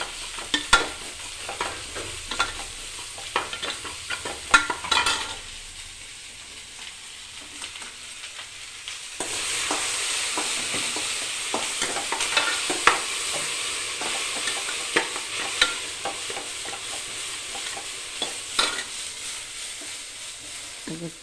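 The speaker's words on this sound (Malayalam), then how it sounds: "വെളുത്തുള്ളി ഇഞ്ചിയും ചതച്ചത് ഇട്ടിട്ടുണ്ട്" Crushed garlic and ginger fry in a pan, a bright continuous sizzle broken by repeated scraping stirs that knock against the pan, with the hiss surging louder partway through. No voices are heard.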